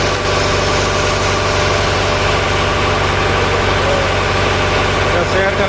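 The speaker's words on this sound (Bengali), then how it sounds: "engine room" The engine of a passenger launch on the Patuakhali route runs in its engine room with a loud, constant mechanical drone and vibration, close and continuous throughout.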